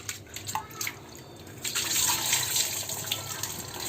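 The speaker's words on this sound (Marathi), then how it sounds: "तर आता मी ही डाळ तिने मिक्स करून मी धुवून घेते." Water runs and splashes as dal (lentils) is rinsed in a bowl in a home kitchen, a steady flowing and trickling wash that grows louder and fuller partway through, with no voices.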